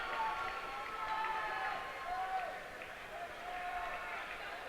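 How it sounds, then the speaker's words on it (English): A high school basketball crowd at Waupun versus Ripon gives steady applause and murmuring as starters leave the floor, a soft continuous clatter of clapping in a gym with a commentator talking over it. "Dean's starting to bring some of his starters out, kind of one at a time to get their applause from the crowd"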